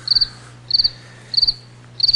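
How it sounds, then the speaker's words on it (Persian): A cricket chirps loudly and close by in four evenly spaced bursts, each a quick pulsed trill, over a faint low hum with no voices. "جیرجیرکو دیشب تا حالا چیر میکشه."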